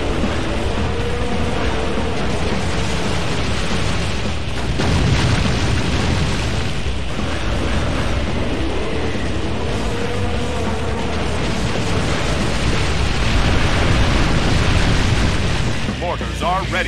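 Mortar explosions boom continuously across a battlefield in Kingdom Under Fire: The Crusaders, a dense, loud wall of blasts and rumble with clashing battle noise throughout and voices calling out beneath it.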